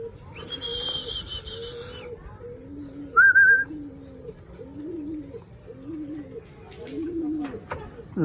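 Racing pigeons in Vigan, Ilocos Sur, coo repeatedly in a soft, rhythmic series of low calls after bathing. A brief whistle and other background noises break in now and then.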